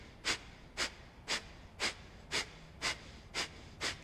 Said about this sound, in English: in the nostrils only, but just kind of forcefully giving these exhales out the nostrils